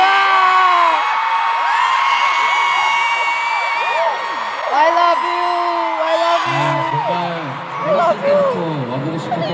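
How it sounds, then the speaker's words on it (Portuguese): Loud concert crowd at a show in São Paulo screaming, whooping and cheering continuously, with rising yells and shrieks swelling throughout. "se vocês continuarem nos mandando tanto grito assim"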